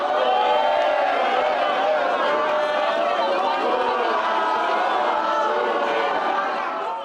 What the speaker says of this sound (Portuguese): Algumas pessoas protestaram e vaiaram, mas apoiadores do ex-presidente responderam gritando o nome dele.